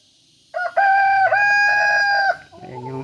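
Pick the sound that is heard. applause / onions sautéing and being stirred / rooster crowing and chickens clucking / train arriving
rooster crowing and chickens clucking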